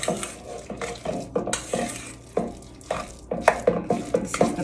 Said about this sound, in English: So you just take your spoon and you wanna give that a good mix.